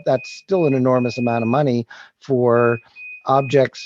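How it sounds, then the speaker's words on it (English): A steady high electronic beep tone sounds in short sustained stretches, fairly faint, running beneath someone talking throughout. "Apologize for the beeping."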